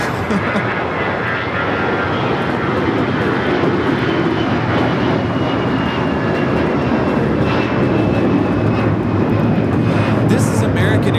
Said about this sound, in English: This is American Airlines 2730 taking off to Nashville, Tennessee on the A321.